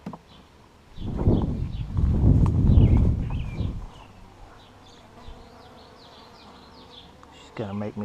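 Honeybees hum around an open hive during a split, a loud burst of handling noise up close giving way to a steady, fainter buzz of many bees swirling nearby.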